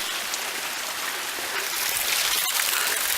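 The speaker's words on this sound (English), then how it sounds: "we're hiking up these little waterfalls" Small waterfalls along a hiking trail in the White Mountains make a steady, close rushing splash of water, continuous and fairly loud with no one talking.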